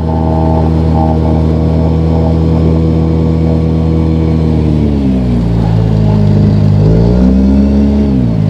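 An outboard motor on a small boat with a flexing transom runs loud and close, holding a steady drone before its pitch dips and wavers as the throttle shifts.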